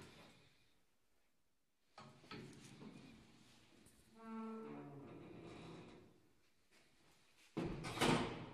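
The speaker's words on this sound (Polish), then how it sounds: "Dopiero co w piątek zrobili, że drzwi przestały trzaskać, to teraz się nie domykają." An apartment-block elevator's sliding doors rumble and thump as they move, failing to shut properly, with mechanical whirring in between and a louder clatter near the end.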